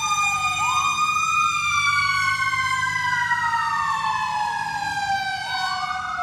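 A fire engine siren wails through a Christmas event in Seabrook, Texas, its rising and falling tone steady and loud across the whole stretch, with a low rumble of the truck beneath and faint voices in the background.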